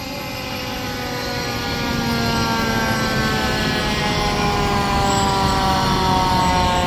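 A fire department tanker truck's siren sounds loud and steady as the truck passes in a fire department anniversary parade, a continuous wail with engine rumble that grows slightly louder partway through.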